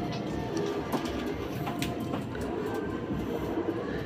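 Racing pigeons arriving at the loft after a rough-weather race, with wing flutters and soft coos over a steady broadband background rumble, continuous and moderately loud throughout.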